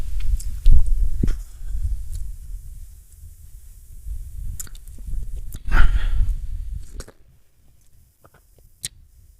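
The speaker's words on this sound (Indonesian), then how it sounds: "Kita seruput kopi hitamnya." Someone noisily slurps unsweetened black coffee close to the mic, with breathy sips, swallowing and mouth sounds, followed by a quiet exhale.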